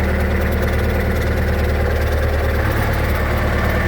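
A Kubota tractor diesel engine, fitted with a snowblower and started in snowy conditions, idles loud and close with a steady, dense rumble and vibration. No voices are heard.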